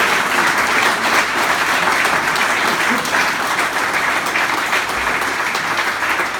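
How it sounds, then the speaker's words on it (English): Sustained applause from a live studio audience after a radio interview, dense and even clapping that continues steadily without voices. "I think that's worth a round of applause anyway."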